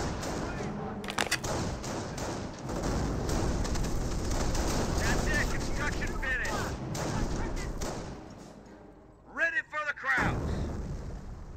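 Mortar and artillery fire in a Company of Heroes battle: a sustained roar of explosions and gunfire, then a pause and a few sharp distant blasts, with a commentator talking over much of it.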